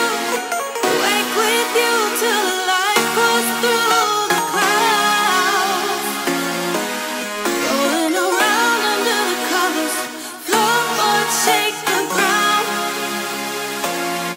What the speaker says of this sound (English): the vocal and the synths are clashing here